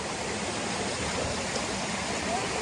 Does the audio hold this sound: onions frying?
no